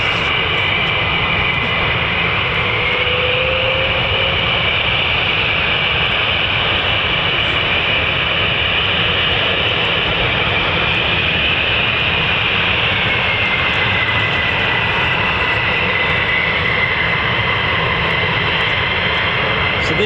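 A steady, loud roar from an F-15 fighter jet at RAF Lakenheath, a continuous broadband rumble that holds through the whole stretch without clear peaks, no talk heard.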